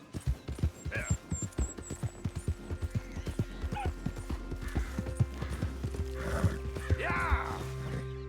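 A horse's hooves clip-clop in a quick, steady rhythm after it is urged on, with a brief whinny-like call near the end. The sound is fairly faint and carries on throughout.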